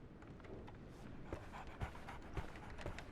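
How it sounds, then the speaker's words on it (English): A dog pants steadily in a quiet scene from the Sherlock Holmes The Awakened video game, soft rapid breaths under faint low background ambience. "I hear a dog."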